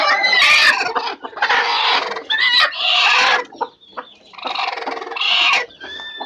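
Loud, close clucking from a small native hen, in long raspy bursts broken by brief pauses over several seconds, with no talk.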